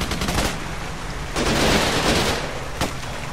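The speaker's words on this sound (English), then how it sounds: "Receiving enemy fire!" Bursts of rapid automatic gunfire from the Xbox 360 shooter Raven Squad, loud and dense, with a sustained volley in the middle and a short burst near the end, no voices.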